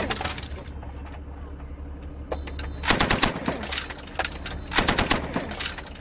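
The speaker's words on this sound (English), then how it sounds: "the Pathfinders insisted I learned how to use the commander's machine gun." A military commander's machine gun firing during practice in Afghanistan, with a short burst early, then louder rapid bursts around the middle and again near the end, heard outdoors with no speech.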